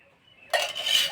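A spoon clinks against a bowl while stirring a fish marinade of cornflour, flour, sour yogurt and mustard oil: a quiet lead-in, then brisk, close scraping and tapping.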